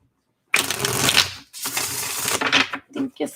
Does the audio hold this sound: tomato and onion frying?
no